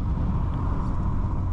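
A 2016 Audi SQ5 SUV with a 3-liter engine cruising on a road trip, heard from inside as a steady, loud low rumble of engine and road noise with no talk.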